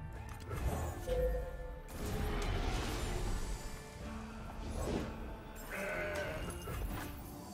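Mountain Goat card bleat from the Legends of Runeterra game, a few goat-like bleats mixed with crashing card effects and game sounds, moderately loud, no talk.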